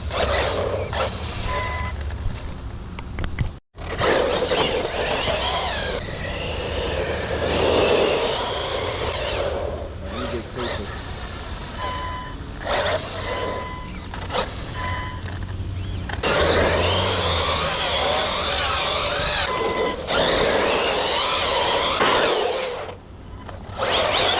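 A Redcat Valkyrie 4S RC car balances on its side wheels, its electric motor whining loud and close with rising and falling pitch, a brief cutout, then steady high revving through to the end.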